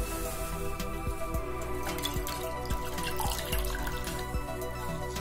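Water drips and trickles steadily as a shirt is soaked in water before laundry treatment, with faint splashes and a constant low hum in the background.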